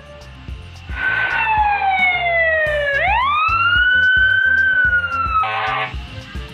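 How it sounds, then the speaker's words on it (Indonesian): A toy fire truck plays a loud electronic siren nearby, a wailing tone that sweeps down, jumps back up and holds steady over a rhythmic beeping backing tune. "mobil pemadam kebakaran."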